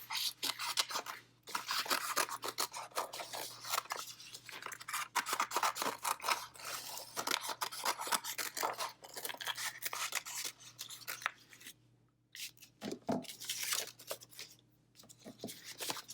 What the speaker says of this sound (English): Then I'll use my scissors to cut out my square.